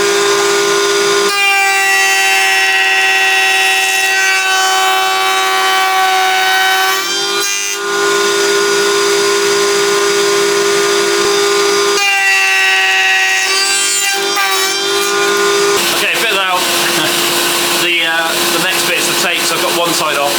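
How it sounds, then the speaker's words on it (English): A power tool cuts wooden tenons for a National beehive brood box, a loud, sustained whining cut with strong tonal harmonics, broken by brief pauses as passes are made. "then we can cut the one side of these tenons"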